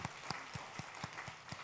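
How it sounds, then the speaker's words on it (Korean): Faint, evenly spaced claps from a church congregation in celebration, a sparse rhythmic patter of single hand strikes heard quietly at a distance. "우리 축하의 박수 한번 하십시다"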